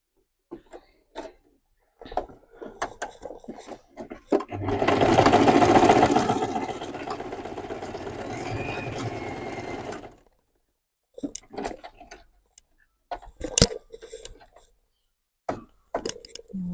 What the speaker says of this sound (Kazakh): Сосын мынаны тігіп тастайсыздар.